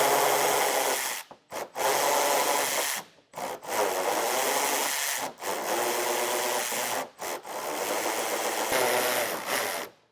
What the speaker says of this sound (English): now I got a 12mm socket. I'm going to remove some of these plastic nuts on the underside.